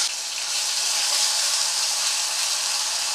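Onion paste frying in ghee for shahi paneer, a steady bright sizzle and hiss close by, continuous and even throughout with no talk.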